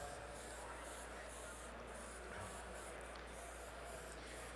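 Heavy, steady airbrush spray of acrylic weathering paint onto a scale model, a continuous airy hiss running unbroken throughout, close and fairly quiet with no talk.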